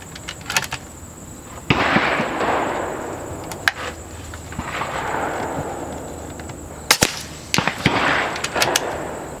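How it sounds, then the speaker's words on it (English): An Air Venturi Avenger .25 air rifle fires 36 grain .254 cut-base slugs outdoors at a 100-yard range, giving a few sharp, loud cracks spread apart over steady windy background noise. "shooting the 36 grain cut base, 254 out to 100 yards, middle target"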